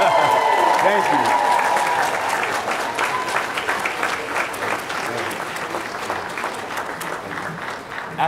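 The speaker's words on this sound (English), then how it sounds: "Give him a big round of applause." A conference audience gives a round of applause, loud and sustained clapping that slowly tapers, with a voice briefly heard at the start.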